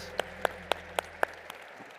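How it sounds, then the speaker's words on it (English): A handful of sharp, evenly spaced handclaps, about six in two seconds, ring out fairly faint and sparse in a hall following a conference paper session on global trade, then fade to quiet. "Let's give them a round of applause."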